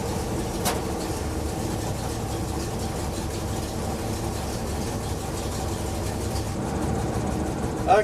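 A truck engine idles steadily after its carburetor has been adjusted, a continuous low rumble holding an even level throughout with no talking.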